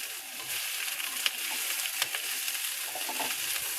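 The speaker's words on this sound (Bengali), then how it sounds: "এগুলোকে খুব ভালো করে একটু ভেজে নিতে হবে।" Chopped red capsicum fries in a pan over lowered gas, giving a soft, steady sizzle with scattered small crackles and pops.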